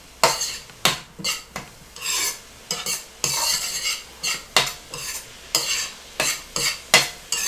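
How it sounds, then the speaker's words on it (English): Spoon stirring food around a hot pan on high heat, scraping strokes repeating in a steady rhythm roughly every half second, with a light sizzle underneath, close and loud. "Now we're going to turn it up onto a high heat and just mix that in."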